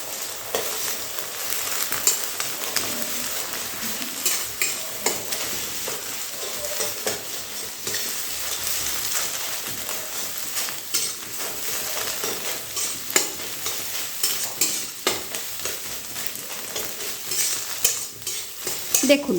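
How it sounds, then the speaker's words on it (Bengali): An egg fries and is stirred in hot oil in a kadai, scrambled into loose crumbly bits, giving a steady close sizzle with repeated scraping stirs throughout, no talking. "তখন এর মধ্যে একটা ডিম দিয়ে ভেজে নিতে হবে"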